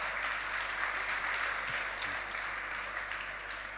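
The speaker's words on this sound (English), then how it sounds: "Big round of applause." Steady audience applause fills a Bitcoin conference hall in Lugano, a dense, continuous wash of many hands clapping at an even level, easing slightly toward the end.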